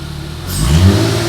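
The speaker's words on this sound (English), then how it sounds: "So now we're going to give it a rev" A supercharged Mercedes SLK320 fitted with a new exhaust revs once, rising from a low idle into a loud, swelling engine roar that holds near the end.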